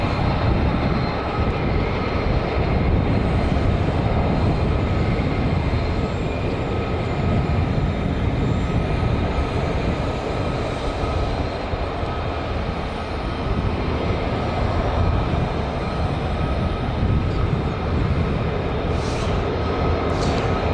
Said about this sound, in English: We've got F-35s coming down as well now.